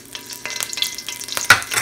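Hot oil sizzles in a pan while Filipino pork ribs caldereta is being cooked, giving a close, crackling hiss with scattered sharp pops and a louder burst near the end.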